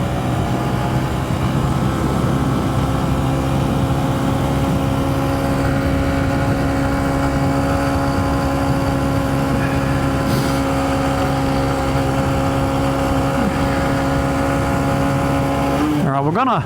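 A 2023 Honda CB125F motorcycle fitted with a 28mm throttle body, ridden in fifth gear, gives a steady, loud, close engine drone with wind noise throughout, ending in a brief abrupt change.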